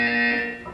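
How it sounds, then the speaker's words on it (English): A steady electronic buzzer from the Portal 2 video game sounds loud and sustained for under a second, its harmonic tone shifting slightly near the end. "When you hear the buzzer, look up at the ceiling."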